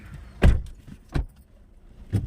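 Three dull, heavy thuds of a car door being shut, close by, spaced a little under a second apart, each with a short low thump and a faint rattle.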